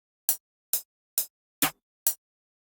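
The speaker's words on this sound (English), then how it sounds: "But it's mostly the third and the eighth bounce that they use." Drill beat snare pattern programmed in FL Studio with the third-and-eighth bounce: five crisp, evenly spaced snare hits, close and dry, with one slightly fuller fourth hit, alone.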